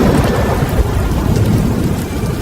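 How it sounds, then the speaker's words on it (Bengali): Thunderstorm on a night in the Bengali countryside during a Kalbaishakhi nor'wester, with steady heavy rain and low rolling thunder filling the whole stretch, loud and continuous with no voices. "শুধু ঝড় বৃষ্টির মধ্যে বজ্রপাতের তীব্র শব্দ শোনা যাচ্ছিল"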